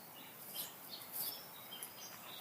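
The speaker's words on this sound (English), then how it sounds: "Listening to the birds." Faint morning birdsong outdoors on a sunny day, scattered high chirps and tweets coming from a distance over a quiet background hiss, with no voices.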